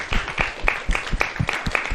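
Applause from the team at a National Youth Day entrepreneurship event, honouring a guest presented with a sapling. Uneven claps ring out steadily for two seconds with some busy, close strokes and a little background voice.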